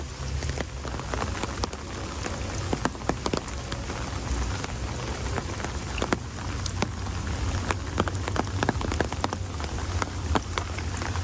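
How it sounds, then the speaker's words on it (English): Steady rain falls while the sun is out, a dense close patter of drops hitting surfaces with scattered sharper splats and a low rumble underneath, continuous and fairly loud throughout. "And just like that, the sun comes out while it's raining."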